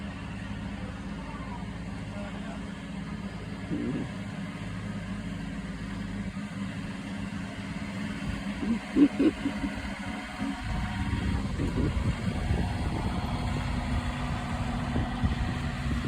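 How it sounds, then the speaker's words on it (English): A low, steady vehicle engine rumble grows louder and heavier partway through as it tows a boat uphill out of the water, with some voices mixed in. "We're getting our boat out of the water there, towing up the hill."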